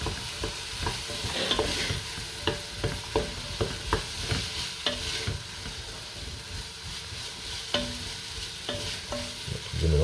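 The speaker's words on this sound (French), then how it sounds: "Donc là je vais mettre les pommes de terre. On va les faire suer aussi un peu. On va les mélanger." Potatoes sweating in a pot for a pistou soup, stirred with a spoon: a steady low sizzle runs throughout, broken by repeated scraping knocks of the utensil against the pot at an uneven rhythm, close and clear.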